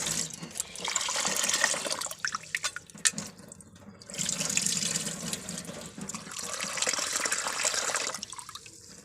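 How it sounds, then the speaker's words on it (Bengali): Rice being rinsed and soaked in water for fried rice, with running and splashing water in two long bursts separated by a quieter pause of drips and handling, close by and with no talking. "আমি চালটাকে কিন্তু হাফ ঘন্টা আগে ভিজিয়ে রেখে দেবো সুন্দর করে ধুয়ে ভিজিয়ে রেখে দেবো"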